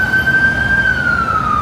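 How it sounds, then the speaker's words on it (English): A police or emergency vehicle siren on a New York City street, a loud sustained wailing tone that slowly falls in pitch over steady traffic rumble. "Sirens!"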